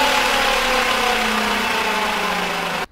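A car's manual gearbox running with the vehicle raised on a lift, a steady loud drone with a whining hum from the secondary shaft bearing that holds constant for nearly three seconds and then cuts off abruptly.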